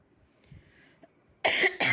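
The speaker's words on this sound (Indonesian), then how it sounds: "Aduh, batuk pula" After a quiet stretch of faint background noise, a single loud, close cough breaks out in two sharp bursts.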